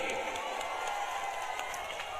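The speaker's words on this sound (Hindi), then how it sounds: "एक बार जोरदार ताली से मुख्यमंत्री जी का स्वागत कीजिए।" Crowd applause and cheering at an outdoor public rally welcoming a Chief Minister in Meskaur, Bihar, a steady dense wash of clapping that continues throughout without a break.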